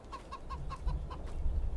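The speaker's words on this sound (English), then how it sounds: "We got some chickens running around." Chickens cluck in a rapid run of short, evenly spaced calls, moderately near, over a low rumbling farm background in the Farming Simulator 22 video game.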